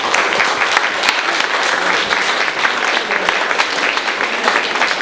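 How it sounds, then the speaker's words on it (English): An audience at a Thurrock Lifestyle Solutions annual general meeting claps in a steady, dense burst of applause, loud and sustained throughout with no talk over it. "So give yourselves a round of applause."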